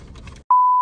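An overheating phone lets out a single steady, fairly loud electronic beep that holds to the end, following a brief low murmur and a moment of silence.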